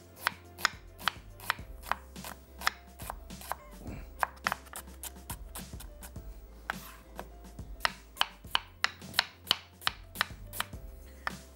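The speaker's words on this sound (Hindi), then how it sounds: "इसको स्लाइस करके हमने रफली सा चॉप कर लेना है, मकसद छोटा कर लेना है इसको।" Onion being roughly chopped with a knife on a board, sharp irregular knocks repeating throughout, close and clear with no talk.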